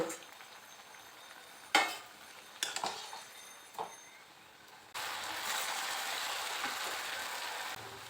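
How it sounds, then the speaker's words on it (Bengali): Semolina crab-shaped pitha fry in a little oil, a steady sizzle broken by a few sharp clinks and scrapes of a utensil, then a louder, denser hiss of frying in the second half. "দুটো সাইডই দেখো লাল লাল করে ভেজে নিলাম এবার নামিয়ে নিচ্ছি বাকিগুলো এভাবেই ভেজে নেব"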